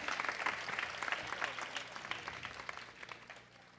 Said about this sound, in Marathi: ताईंसाठी एकदा जोरदार टाळ्या वाजवा.